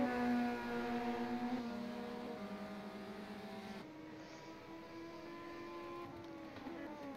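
Chevrolet touring car racing in a WTCC championship round at Hockenheim, a loud sustained engine note climbing and shifting through gears, with a second car close behind.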